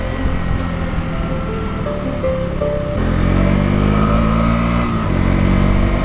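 A motorcycle rides out of Deoghar town toward NH333, its engine droning steadily with a brief rev change midway, close and loud over road and wind noise.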